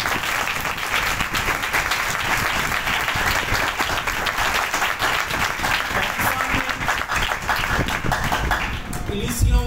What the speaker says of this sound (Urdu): آئیے یسوع مسیح کے لیے زوردار تالی۔